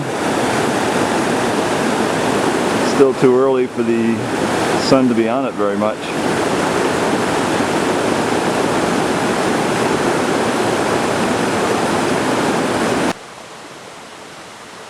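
Roaring Brook, a mountain stream on the trail to Chimney Pond on Katahdin, rushes loudly and steadily close by. Someone speaks briefly over the water, which drops sharply in level near the end.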